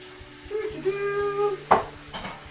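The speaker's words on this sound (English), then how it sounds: "Love doing the dishes." Dishes and cutlery clink and scrape in a home kitchen sink, with a steady tonal hum underneath and a sharper clatter near the end, close and fairly loud, with no talking.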